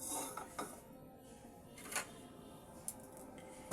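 A metal kadai set down on a home gas stove before cooking chicken curry, giving a few faint clanks and scrapes of cookware in a quiet kitchen.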